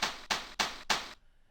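A snare drum sample pitched down 14 semitones, four evenly spaced, hissy, noisy hits with a dull thud, fairly quiet and dry, ending abruptly.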